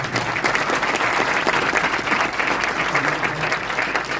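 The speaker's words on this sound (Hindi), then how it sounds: "एक बार शक्तियों के लिए जोरदार ताली।" Steady, dense applause from an audience at a health talk, loud and continuous throughout with no break, with only a faint murmur of voices underneath.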